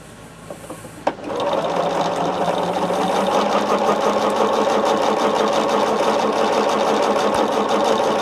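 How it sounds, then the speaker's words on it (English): Sewing machine stitching fabric strips together for a quilt block, starting after a brief click and then running steadily and close, a loud continuous whirring hum without pause. "And we're just sewing our strips together."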